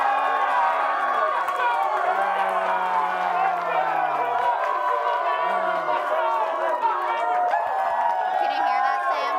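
A live studio audience at a sports show cheers for its favorite contestant in a loud, sustained crowd roar with whoops, yells and clapping blending together.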